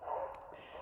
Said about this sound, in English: I think you can hear the dogs barking.